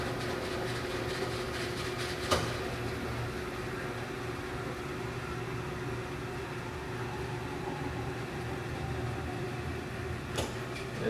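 A Hardinge HLV-H super precision toolroom lathe runs at a slow 1,000 RPM, with a steady mechanical hum and whine at moderate level and a couple of brief clicks.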